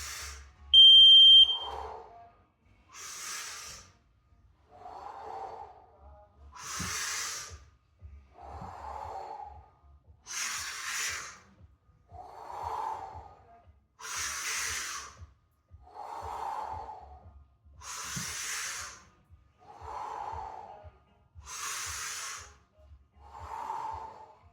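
Deep rhythmic breathing exercise, with slow nasal inhales alternating with lower, softer exhales in a steady repeating cycle of about a dozen breaths, close and clear with no talk.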